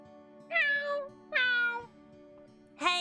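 Three clear cat meows from the Lunar Silver Star Story video game, each rising and falling in pitch, spaced about a second apart over a steady low background hum.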